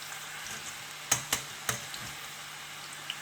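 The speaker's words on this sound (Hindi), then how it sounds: "ये देखिए कितना अच्छा सा ये फ्राई हो रही है" Chana dal fries in oil for namkeen with a soft, continuous sizzling hiss, broken by three or four sharp clicks from a utensil early on. It is near, with no speech.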